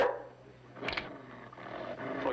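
A dog barks and snarls in a scene from a TV western, with a couple of sharp yelps and growls standing out briefly over a quiet background.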